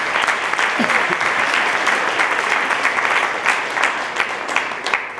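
An audience at a graduates' debate bursts into steady, dense applause that fills the room loudly and evenly for several seconds, with a brief voice or whistle near the start.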